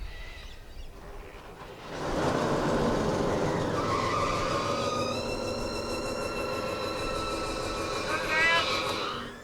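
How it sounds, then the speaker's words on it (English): A broken-down delivery truck's engine is cranked on the starter, then catches about two seconds in and settles into a loud, steady run close by, with rising whine tones near the end. "We'll go and hit the starter and see what happens."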